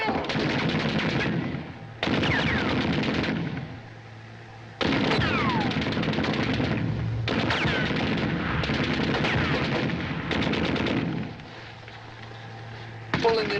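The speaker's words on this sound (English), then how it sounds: "We're at war. The enemy's firing on us." Machine gun and artillery fire in a 1941 Laurel and Hardy war comedy: loud bursts of rapid gunfire break off and start again in several long stretches, with voices shouting in the short pauses between them.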